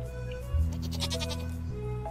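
A goat in Stardew Valley gives one drawn-out bleat lasting over a second, loud and close against a steady background of game music.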